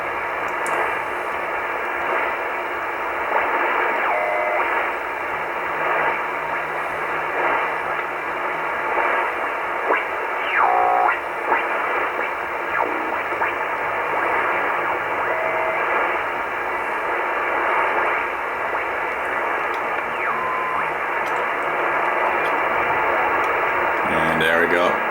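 Shortwave radio static hisses steadily while the receiver is tuned across 24 to 26 MHz, with faint tones, clicks and brief chirps of signals drifting past.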